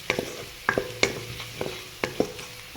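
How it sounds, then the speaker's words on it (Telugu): Turmeric being stirred into onions frying in a pan for oats upma: sharp scraping stir strokes recur every half second or so over a steady low sizzle, close and fairly loud, with no talk. "పసుపు వేసాక కొద్దిగా కలుపుకోండి."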